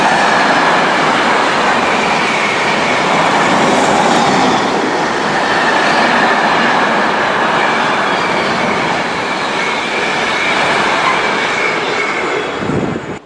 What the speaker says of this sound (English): Now this 350 that's pulling in now is the 7:49 to London Euston.